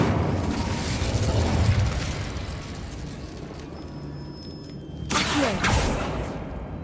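An Incendio fire spell is cast in Hogwarts Legacy: a dense, roaring blast of flame fills the scene, fades slightly, then a sharp burst flares up again near the end, loud and close, with no talk.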